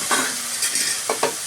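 Tomatoes stirred while frying in a pan for a paneer capsicum butter masala, a continuous close sizzle with a few soft scraping strokes of the spoon.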